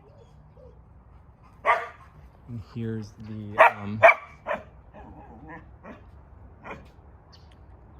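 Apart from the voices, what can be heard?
dogs barking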